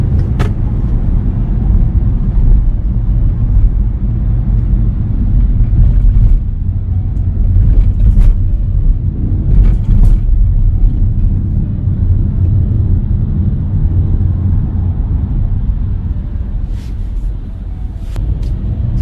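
A car driving through city traffic in Seoul near Gyodae station, with a steady low engine rumble that swells slightly as it accelerates, close and continuous, with a few faint clicks.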